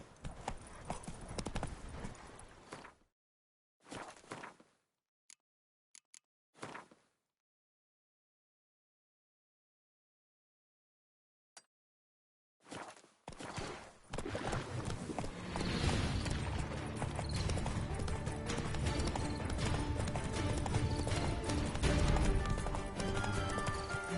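Roach the horse in The Witcher 3 clip-clops with steady hoofbeats that cut in and out during the first few seconds, then return as a continuous rhythmic gallop with no talk.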